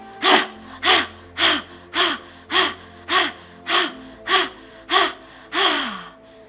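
Rhythmic yoga breathing during a flow session: about nine even, forceful breaths in a steady cycle, each a rush of air, with a longer drawn-out breath at the end, close and clear with no talk.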